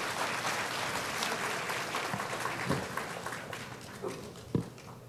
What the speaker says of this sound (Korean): 박수 한번 다시 크게 부탁드리겠습니다